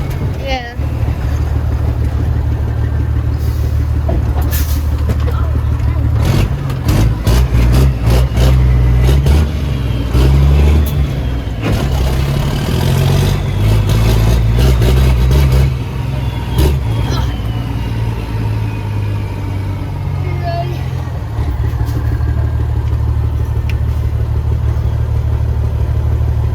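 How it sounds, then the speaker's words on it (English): A truck's engine revs hard and steadily through a burnout, loud and close, with the roar rising and falling over a sustained low rumble while people talk over it. "See if it'll do a burnout."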